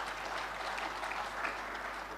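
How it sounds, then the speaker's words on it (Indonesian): Audience at a land office anti-corruption day awards ceremony in East Java, applauding in a sustained, even wash of many clapping hands in a hall, with no speech over it. "Tepuk tangan dong untuk Jawa Timur."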